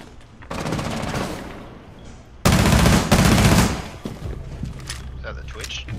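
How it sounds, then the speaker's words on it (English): Loud, sustained automatic gunfire in a first-person shooter game, with dense rapid bursts that swell and ease across the moment, an especially heavy volley in the middle, and a player talking over it. "Oh my god, everyone's shooting me."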